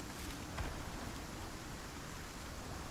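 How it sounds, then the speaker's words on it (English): Steady rain falls in a survival video game, a constant even hiss of downpour running unbroken and alone with no voices. "is this rain gonna pass?"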